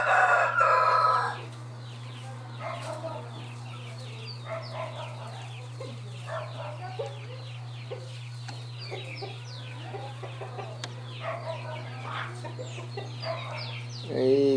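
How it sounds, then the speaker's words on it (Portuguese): A rooster crows loudly at the start and again near the end on a small rural farm, with hens clucking and scratching for food in between over a steady low hum. "Aí, galo folgado, viu?"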